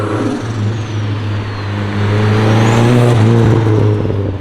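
Brian's project car, a boosted build with a clutch, revving hard on a dyno, engine drone loud and steady with rising and falling pitch sweeps, building stronger in the second half.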